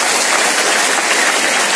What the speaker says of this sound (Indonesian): Tepuk tangan buat santri Al-Karimnya